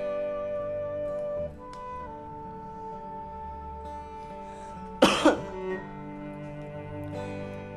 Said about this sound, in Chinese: 有点咳嗽。